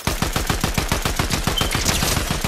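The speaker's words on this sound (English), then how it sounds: "Someone else is shooting." Rapid enemy gunfire in Fortnite, a fast, evenly spaced burst of about twenty loud close shots fired without pause, no talking.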